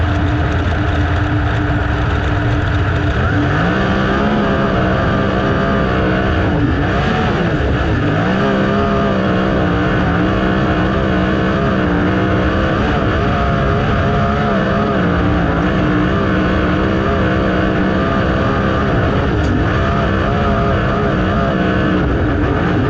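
Dirt track race cars run their final laps before the feature at the Dirt Cup, with loud, continuous engine roar from multiple cars, pitch rising and falling as they pass and throttle through the turns, no voices.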